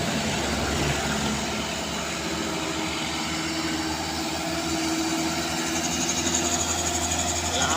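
A loaded truck engine labours up an extreme steep climb on the Trans-Sumatra highway, a dense continuous drone with steady mechanical throb and rattle, close and loud throughout.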